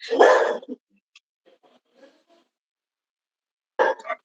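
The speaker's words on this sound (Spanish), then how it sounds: "tengo perros" Dogs barking at a home, a loud burst of barks up front, then quiet scattered noises and a second short round of barking near the end.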